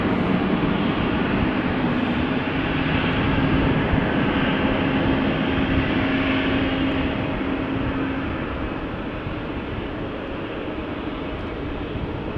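An Embraer 195-E2 airliner at Amsterdam Schiphol produces a steady engine roar with a faint whining tone, holding level for several seconds before easing off slightly toward the end, with no voices.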